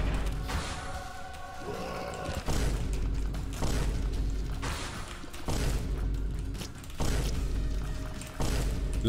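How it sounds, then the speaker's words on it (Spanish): Large explosions in the video game Fiend Folio boom as repeated deep blasts, each followed by rumbling, over a constant layer of game sound and no clear talk. "Es que encima la explosión es enorme"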